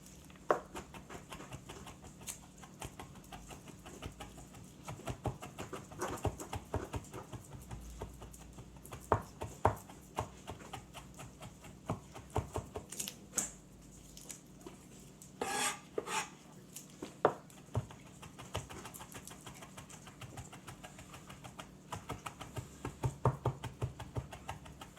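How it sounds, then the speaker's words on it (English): A knife mincing garlic on a cutting board with rapid, repeated chopping taps, close and steady at moderate volume, with no talking. "Good mince on a garlic right there."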